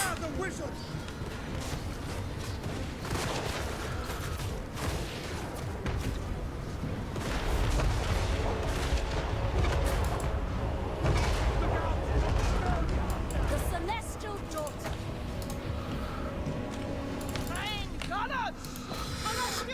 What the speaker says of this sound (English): And now they're shooting themselves, the morons!